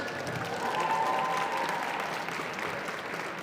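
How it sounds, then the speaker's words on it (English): An audience at a senior national lead climbing championship final applauds the route setters with a steady wash of clapping that swells and then slowly fades over a few seconds. "we give them a hand of applause for the setters"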